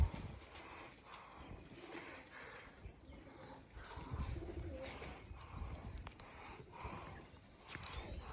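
Pigeons coo softly in a rhythmic, repeated pattern, kept as pets alongside horses, faint and somewhat distant over a low rustling background.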